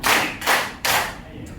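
A group claps in rhythm, three sharp claps spaced evenly about half a second apart, loud and close, with a brief pause after the last clap.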